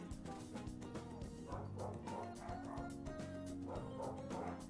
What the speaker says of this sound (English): That honestly sounds like the type of barking where they're like barking at a rabbit or something